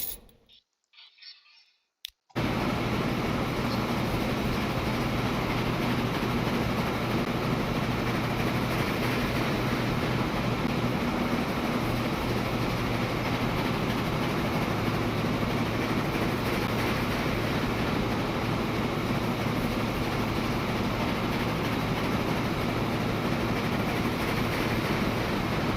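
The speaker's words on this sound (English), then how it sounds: "The train is coming next." A train in Transport Fever 2 rolls past with a continuous, loud rumbling wash of rail noise that holds steady for most of the stretch after a brief quiet start.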